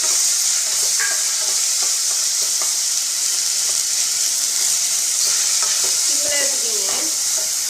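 Banana slices fry in melted ghee in a pan for kuzhi paniyaram, giving a loud, continuous sizzle with occasional scraping stirs close up.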